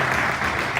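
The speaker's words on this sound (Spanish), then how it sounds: "Puedes dar un fuerte aplauso al Señor en esta mañana" A church congregation breaks into applause during a Spanish-language sermon, a dense, steady wash of clapping hands filling the room for a brief moment.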